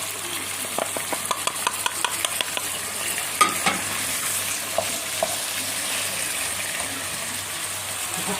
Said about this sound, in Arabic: وبنعلو بقى كده على النار ونسيبها كده تتشوح بقى تاخد راحتها كده